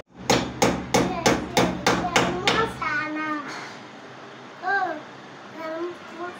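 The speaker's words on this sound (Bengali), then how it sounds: "স্টিল তারকাটা মারতে হবে। এইভাবে মেজারমেন্ট করে আগে একটি স্ক্রু মেরে নিতে হবে।" About eight steady, evenly spaced hammer blows drive steel nails to fix a window fibre net, loud and close, then stop as a voice babbles in the background.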